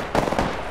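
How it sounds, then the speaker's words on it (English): Gunfire in the Apex Legends video game: two quick, sharp shots in close succession, loud and punchy, ending almost at once. "Wait, we're shooting."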